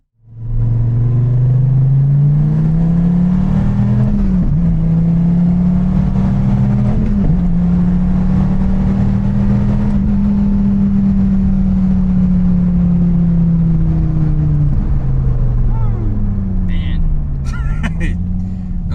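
A 2013 fifth-generation SRT Viper engine roars up close on a back road in Mexico, revving and holding a strong steady drone as it accelerates, then easing off near the end.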